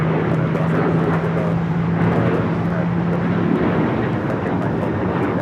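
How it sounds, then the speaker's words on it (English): An Alaska Airlines Boeing 737-900ER takes off from Los Angeles International, a loud, continuous engine roar with a low drone that holds and then eases, with voices talking over it. "This is Alaska Airlines 1372 taking off to Liberia on the 737-900ER."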